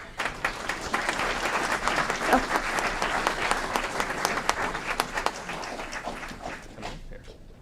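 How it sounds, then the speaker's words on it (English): Steady applause fills a council meeting chamber in honor of bike, pedestrian and transit committee members, many hands clapping densely and evenly for several seconds before thinning out at the end. "Let's give them a round of applause."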